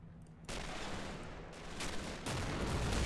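Offshore ship bombardment in a World War II realism mod shooter game, heard as heavy booming artillery blasts and rumbling impacts that swell in two loud bursts, with no talking.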